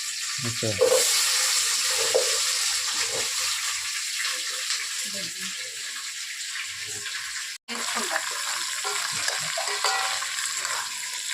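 Chopped vegetables hiss and sizzle in a pan for sambar, a steady close frying noise with occasional stirring clatter and a soft voice at moments.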